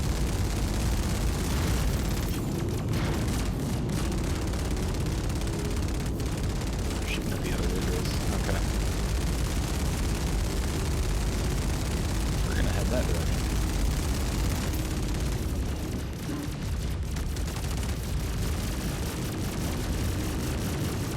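Capital ship weapons fire and explosions roar continuously during a fleet battle in Star Citizen, a dense, loud wash of booms and blasts lasting throughout.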